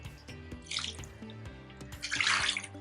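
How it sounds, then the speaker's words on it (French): Water pours into a pot with stock concentrate for oxtail and macabo broth, a splashy, gurgling stream in two surges with clinks of the pot, close and fairly loud. "on met de l'eau pour aller chercher le concentré"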